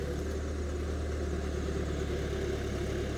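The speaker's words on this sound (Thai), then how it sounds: "เครื่องไม่ได้เร่งนะครับเนี่ยเดินเบาธรรมดาครับ" A backhoe engine idling at steady low speed without revving, a continuous loud low rumble with a rhythmic mechanical pulse and no talk.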